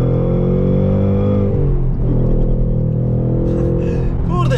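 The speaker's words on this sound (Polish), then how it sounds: "to byłby zaszczyt, żeby poprowadzić Mustanga Mach 1" A Ford Mustang Mach 1 with a manual gearbox accelerates hard on a race track, its loud engine note climbing steadily through the revs with gear-change dips, close and continuous for several seconds.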